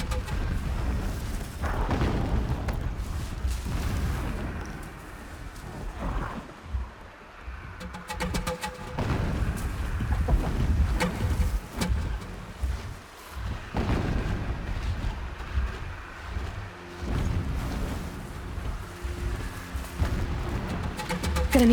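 Distant explosions in Horizon Zero Dawn, deep muffled booms rolling in at intervals over a low rumbling ambience, with no talking.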